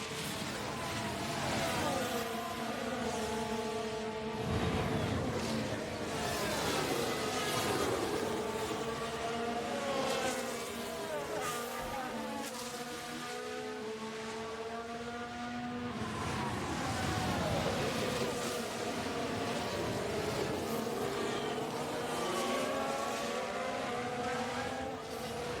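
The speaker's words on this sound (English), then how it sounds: "Soothing sound of F1 engines." Formula 1 engines scream around the circuit in the F1 Manager 2024 racing game, a continuous high-revving roar with pitch sweeping up and down as cars accelerate and shift, steady and loud throughout.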